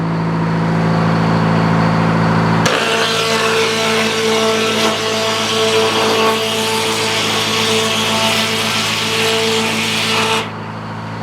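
A sawmill blade cuts along a log, a loud steady rasping whine that starts abruptly a few seconds in and runs without a break for about eight seconds over a constant low engine hum, then cuts off.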